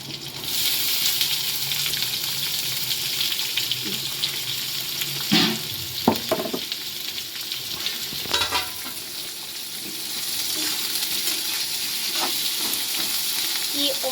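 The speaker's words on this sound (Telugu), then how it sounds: "ఆనియన్స్ గోల్డెన్ బ్రౌన్ అయ్యే వరకు వేపాలి" Thinly sliced onions frying in hot oil for prawn fry piece biryani, a steady close sizzle running throughout with a few sharper clanks and scrapes of stirring in the middle.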